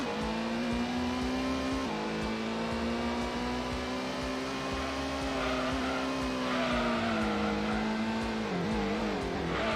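A race car engine in Gran Turismo hums in a steady loud drone close up, its pitch rising slightly and then dropping as the car slows, with no voices over it.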